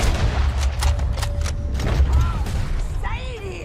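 Gunshots ring out in a Western shootout in Red Dead Redemption 2, several sharp cracks in quick succession over a rumbling backdrop, with voices talking around them.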